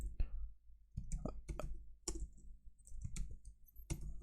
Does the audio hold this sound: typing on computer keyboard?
yes